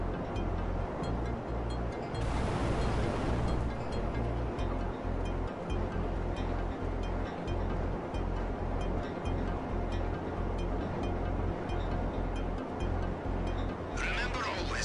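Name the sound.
ocean waves at Cayo Perico in GTA Online video game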